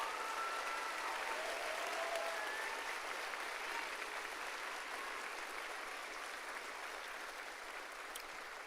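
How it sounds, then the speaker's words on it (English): Sustained applause from a commencement audience at a health professions school graduation honouring board members, an even wash of many hands clapping at moderate distance, gradually easing toward the end with no talking. "Audience, please join me in applauding their efforts."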